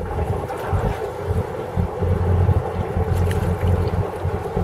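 A Dutch Aquacraft 1250 AK steel cruiser's engine accelerates, a loud low rumble close by, mixed with water wash and wind buffeting the microphone.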